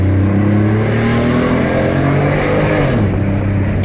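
An Alfa Romeo 156 3.0 V6 fitted with a sports exhaust revs loudly and close by, its engine note climbing steadily and then dropping sharply near the end, alone with no talk.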